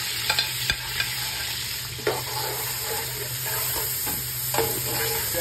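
Grated onions fry in hot oil for a saag dish, a steady sizzle running throughout with occasional sharp clicks and scrapes of stirring.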